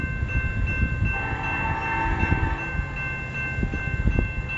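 A fast CN mixed freight train approaches from a distance in Port Huron, Michigan, with a low rumble and steady hum, wheel noise building gradually.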